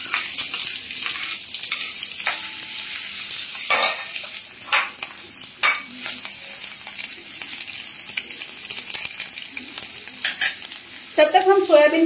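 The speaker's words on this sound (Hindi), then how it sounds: "सबसे पहले हम एक बड़ा ओनियन डालेंगे" Roughly chopped onion fries in hot oil with a steady close sizzle, punctuated by sharper crackles and stirring scrapes, ending with a brief clatter of utensils.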